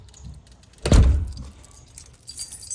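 A bunch of keys jangles sharply up close in one loud burst, then fades into quieter rustling and faint background noise.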